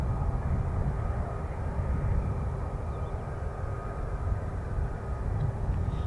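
F-35B fighter jets of 617 Dambusters Squadron fly overhead, a heavy, steady low roar of distant jet engines with no distinct passes standing out.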